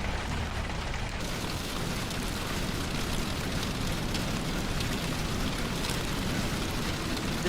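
Heavy rain pours from a rain-wrapped tornado, a dense, constant roaring hiss of downpour with no voices heard.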